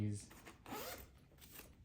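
A zipper on an Evenflo Shyft DualRide car seat and stroller compartment is pulled along in one steady, close zip, with soft rubbing of fabric around it.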